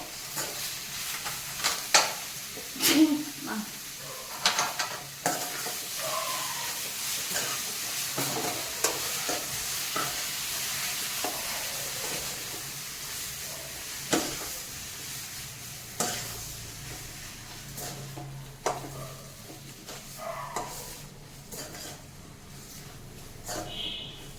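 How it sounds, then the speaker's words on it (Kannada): Something frying in a pan on a medium flame, with a soft continuous sizzle, irregular stirring clicks and scrapes throughout, and a voice talking intermittently over it. "ಈ ಥರ ಮಾಡಿಕೊಂಡು ಫ್ರೈ ಮಾಡಬೇಕು ಮೀಡಿಯಂ ಫ್ಲೇಮಲ್ಲಿ ಇಟ್ಕೋಬೇಕು"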